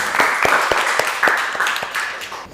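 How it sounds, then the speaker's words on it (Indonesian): A classroom group claps and applauds together, a steady burst of many hands clapping at close range with no talking over it. "Tepuk tangan dulu buat kelompok 1."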